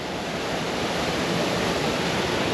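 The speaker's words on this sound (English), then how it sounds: "Small little waterfall though." A small waterfall in a calm, secluded stream in Hawaii, giving a constant broadband rush of falling water, close and even, with no voices over it.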